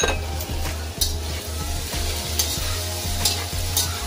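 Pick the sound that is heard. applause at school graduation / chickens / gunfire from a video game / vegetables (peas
vegetables (peas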